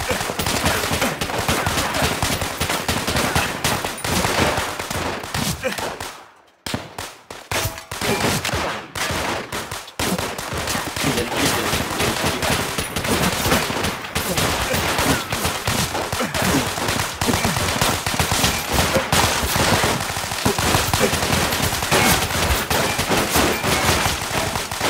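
Sustained gunfire from Call of Duty: World at War as German soldiers attack a Soviet soldiers' camp, a dense, loud barrage of rapid shots and bursts with a brief lull near the middle, no talking over it.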